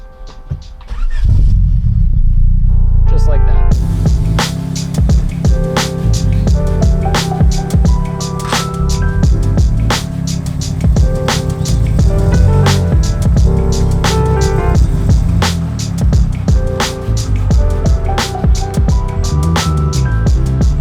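A third-generation Honda Prelude with a manual swap cranks briefly, then fires and settles into a loud, steady idle up close, with a few sharp clicks over the engine and a brief spoken remark.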